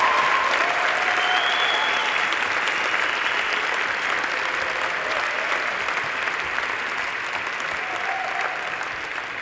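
An audience at a 2022 engineering faculty graduation ceremony applauds mechanical engineering graduates, giving a dense, sustained round of clapping that stays loud throughout and eases only slightly toward the end.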